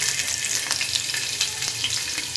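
Onion and grated coconut dry-roasting on a hot tava for amti: a steady close crackling sizzle with small pops scattered throughout, no voices.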